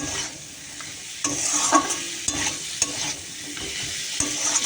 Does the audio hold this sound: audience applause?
no